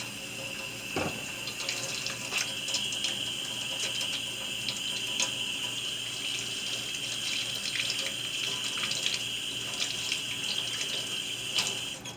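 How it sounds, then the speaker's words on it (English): Steady running water from a tap splashes into a sink, with occasional small clinks and rubbing sounds of hands being washed, close by. "I'm going to wash my hands real quick with some soap and water."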